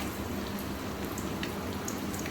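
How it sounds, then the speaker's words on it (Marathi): Steady rain falls outdoors at a riverside village in Malvan, a soft continuous patter of drops with occasional brighter splashes, fairly faint and unbroken throughout, with no voices. "आला पाऊस."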